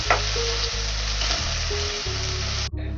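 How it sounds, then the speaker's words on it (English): Chopped tomatoes frying in a pan for fish dum biryani make a loud, continuous sizzle close by. A low steady hum runs underneath, and there are a few light stirring sounds. "2 medium tomatoes I have chopped it, and let's fry it for some minutes."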